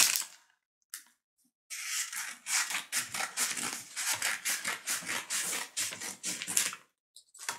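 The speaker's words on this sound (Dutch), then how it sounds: "Ik moet even een stuk van het papier afknippen." Scissors snip through paper in a quick rhythmic run of crisp cuts, with a few separate snips before the steady sequence.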